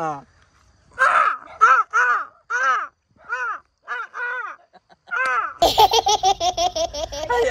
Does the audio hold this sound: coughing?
no